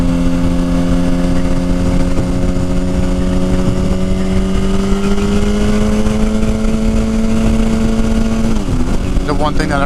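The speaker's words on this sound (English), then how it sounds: "One thing that everybody comments on the 2012 is the way it sounds, and absolutely it does sound very different from every other bike out there." A 2012 motorcycle engine drones steadily while riding, its low humming tone rising slowly in pitch, then dipping and climbing sharply near the end. Steady wind rush sits underneath, and a rider talks over it.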